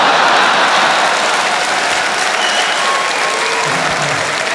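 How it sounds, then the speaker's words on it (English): A comedy club audience erupts into loud, dense applause after a comedian shuts down a heckler, a thick roar of clapping that holds strong throughout. "The audience erupts into applause"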